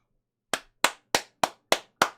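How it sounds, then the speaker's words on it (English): Six sharp, evenly spaced claps ring out alone, each a crisp close slap with a short decay, starting after half a second of silence. "Give my future personal assistant a round of applause."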